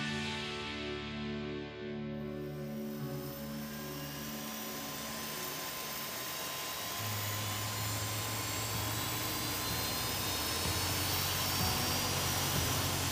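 Steady roar of GE jet engines running with a broad rushing hiss and rising tonal whine, continuous and fairly loud, no voices.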